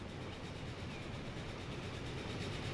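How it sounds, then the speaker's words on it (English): Steady, continuous rumble of a train pulling into a station in the simulation game Transport Fever 2, a dense, even wash of rolling rail noise with no voices. "watch a train come into the station is what we shall do"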